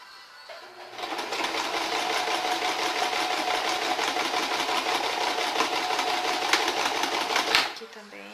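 Sewing machine running one steady continuous stitching burst on cotton dish towel fabric, close and fairly loud, starting and stopping cleanly with a soft hum before and after.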